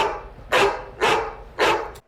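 A person imitates a dog with three loud, evenly spaced barking shouts, each a sharp, gruff burst with a short pause between them.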